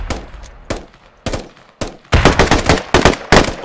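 Rapid bursts of automatic gunfire in the military shooter game Squad, loud and close, with sharp separate shots early giving way to dense, sustained firing in the second half.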